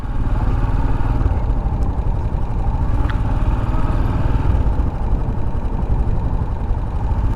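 A Yezdi Scram 440 motorcycle's 440cc engine runs steadily at a low, rumbling idle, close by and fairly loud, with a faint clatter and no voices.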